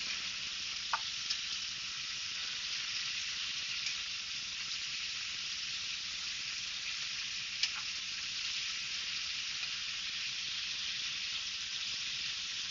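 Potatoes fry in a pan with dried chillies, giving a steady, even hiss of sizzling oil throughout, with a couple of faint clicks of stirring and no voices.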